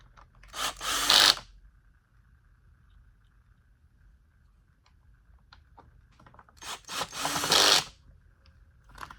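A power drill drives two screws back into the bottom of a Bissell Cleanview Rewind Pet vacuum base, two short whirring bursts several seconds apart with faint handling sounds between.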